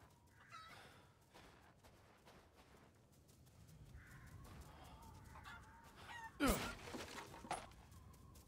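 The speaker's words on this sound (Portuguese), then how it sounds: "Ui, é uma galinha." A chicken clucks in Resident Evil Village, with short clucks scattered through quiet game ambience and a louder burst near the end.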